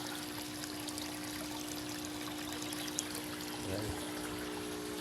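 Steady flow of water pouring and trickling into a catfish pond, a continuous even wash with a brief low disturbance near the end.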